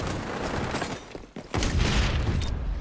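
A grenade blast in the shooter game XDefiant, a sudden loud boom that cuts through brief quiet after steady gunfire, filling the mix with rumbling noise.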